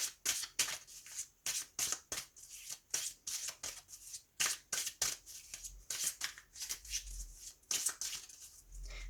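A deck of tarot cards is shuffled and cut by hand, giving a rapid run of crisp riffling bursts and soft slaps in an irregular rhythm, close and fairly quiet with no talking.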